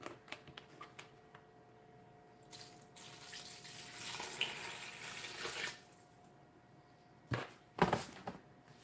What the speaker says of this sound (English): And I want to add the water on the beans.